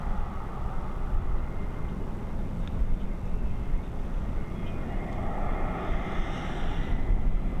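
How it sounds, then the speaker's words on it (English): A KLM airliner arriving from Amsterdam roars low on final approach to Dublin Airport, a broad, steady jet rumble that swells slightly toward the end, fairly loud and close. "now on its final approach, coming in after an hour and 14, an hour and 15 minute flight from Amsterdam"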